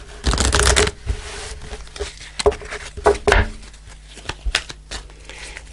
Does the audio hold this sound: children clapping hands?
no